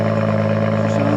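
A BMW M140 engine, rebuilt after a wreck, running steadily close up with a loud, even hum and strong low harmonics, no coolant or radiators fitted, no speech.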